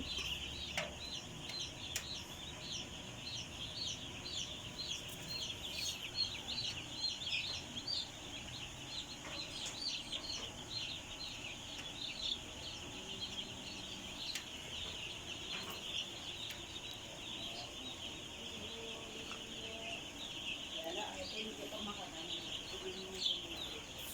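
Three-day-old broiler chicks peeping constantly in a brooder, a dense chorus of high chirps layered over a low background hum, with occasional faint voices.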